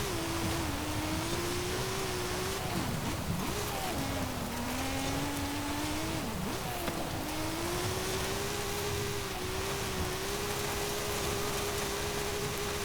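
A 1992 Jeep Wrangler Sahara in Forza Horizon 5, fitted with its most powerful engine swap, drones steadily as it is driven, its pitch wavering slightly through shifts and dips, all under a constant hiss of wind and road noise.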